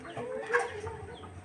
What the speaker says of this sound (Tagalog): Oh, kadaghan sa manok adto.